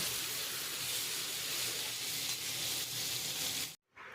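Mrigal fish pieces fry in hot oil with a loud, steady, close-up sizzle that cuts out briefly just before the end.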